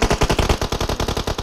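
Rapid automatic gunfire in the video game PUBG Mobile, a loud, close, continuous burst of about a dozen evenly spaced shots.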